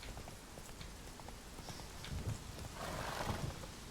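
Roach the horse galloping in The Witcher 3, with rhythmic hoofbeats thudding steadily at moderate volume along with a whinny.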